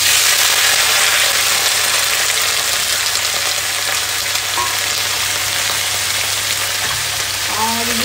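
Sliced onions and potatoes fry together in a pan with a continuous loud sizzle and crackle, steady throughout, with a few faint clinks near the end.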